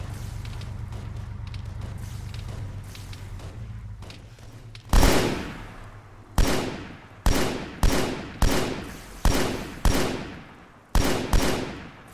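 Heavy video game gunfire from Operation Trebuchet, about eight loud, booming single shots at irregular intervals, each ringing out and decaying, after a stretch of steady lower rumbling at the start.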